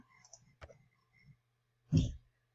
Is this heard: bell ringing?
no